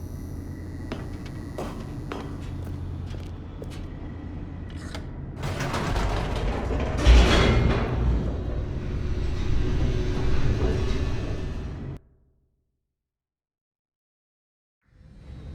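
An elevator plummets downward in the video game The Stanley Parable: a loud mechanical rumble and rushing roar build midway after lighter clicks, then cut abruptly to silence before a final thud.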